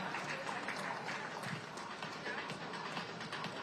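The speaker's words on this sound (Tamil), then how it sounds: "அண்ணனுக்கு ஒரு பெரிய கைத்தட்டல் கொடுத்துடலாம்" An audience at a stage event gives thick, continuous applause to welcome a speaker, steady and fairly loud with voices mixed in.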